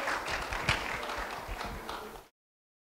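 Church congregation applauding at a Sunday service, a dense patter of many hands clapping steadily and fairly close for about two seconds before cutting off abruptly into silence.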